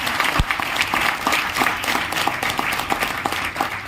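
An audience at a hotel meeting in Raipur bursts into sustained, dense applause, loud and continuous with scattered sharper claps throughout.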